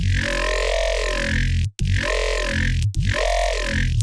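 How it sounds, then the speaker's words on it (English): A heavy Serum synth OG growl bass repeats three times, each note sweeping through a smooth vowel-like 'wow' shape as the filter opens and closes, loud and continuous. "You can get this smooth vowel shifting effect as the growl opens and closes."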